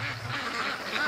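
Ducks quacking on a lake where wild geese also gather, a few nasal calls close by over steady outdoor ambience, with no talk.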